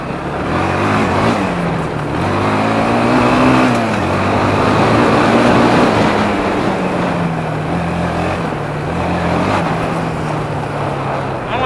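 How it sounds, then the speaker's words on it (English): Kawasaki Bayou 250 quad ridden flat out, its small engine droning steadily and loudly with slight rises and dips in pitch, close by throughout. "Riding this bike as fast as it can be ridden."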